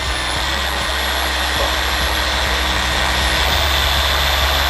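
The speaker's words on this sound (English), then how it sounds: "then put the machine on speed 1, and then just blend the compound in just like this" A machine polisher running at its lowest speed setting spreads cutting compound over the paint of a Nissan Skyline R34 GTV, giving a loud, steady motor drone with a constant hum and no voices.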